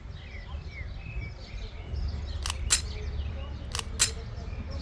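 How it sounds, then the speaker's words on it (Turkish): Sharp bird chirps ring out in two quick pairs over a low outdoor rumble in Basel, Switzerland, with softer chatter faintly in the background. "Ay cıvıl cıvıl her taraftan kuş sesi geliyor ya."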